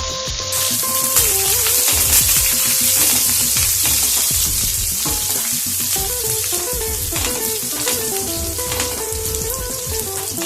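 Curry leaves and green chilies frying in hot oil for an Udupi-style green beans sabzi, a loud, continuous crackling sizzle with faint stirring, heard alone without talk.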